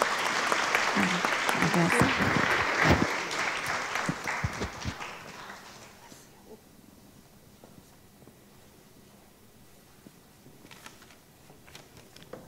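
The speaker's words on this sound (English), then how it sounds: "You may applaud." Loud applause from a congregation at a church service for about six seconds, then fading into scattered claps and quiet room noise.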